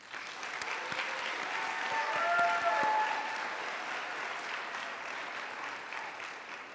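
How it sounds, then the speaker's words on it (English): Audience applause at a virtual school graduation ceremony for the class of 2026, honoring family and friends: a steady, moderately distant wash of many hands clapping that swells slightly midway, with faint tonal sounds layered over it. "Let's give them a round of applause."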